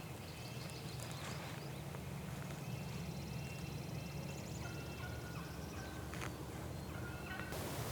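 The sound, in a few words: wild turkey gobbling in distance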